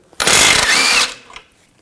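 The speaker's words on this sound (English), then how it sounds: "take the sway bar link nut off, use a 18mm socket" An 18mm socket on a power or ratchet tool spins off a sway bar link nut on a 2000-2006 BMW X5, one loud close burst of whirring lasting under a second, then a brief rattle as it stops.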